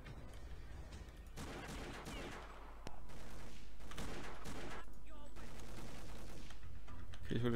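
Guns fire in the video game Boiling Point: Road to Hell. The shots come fairly faint in rapid, repeated bursts, turning into a denser, continuous volley of fire partway through.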